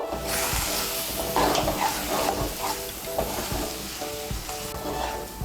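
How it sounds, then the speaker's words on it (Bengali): Boiled, grated potato is stirred into gram flour in a hot pan, giving a steady sizzle broken by repeated scraping spoon strokes throughout, fairly close and without talk. "আলুটাকে বেসনের সঙ্গে ভালো করে মিশিয়ে নেব"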